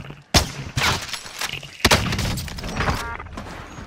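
Gunfire in the battle royale game Warzone, several sharp, loud shots in quick bursts, separated by brief gaps and set against busy in-game noise.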